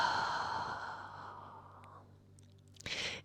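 A long, audible breath is exhaled slowly during a yoga pose, fading over about two seconds before a brief sharper breath sound at the end, close and quiet.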